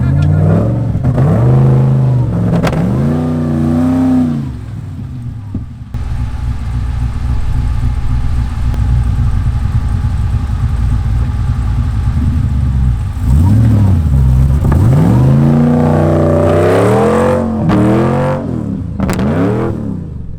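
A Nissan Patrol 4WD engine revs hard over and over while trying to power out of a bogged spot near Shark Bay, loud and close, with a steady roaring stretch in the middle and rising, falling surges.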